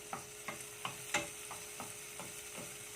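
Squid for adobong pusit cooks in a pan with a faint, steady sizzle, while a utensil stirs and scrapes in regular, evenly spaced strokes about three times a second.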